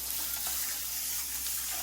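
Water poured into sugar for bread halwa makes a steady, soft gushing splash up close, continuous and alone with no talking.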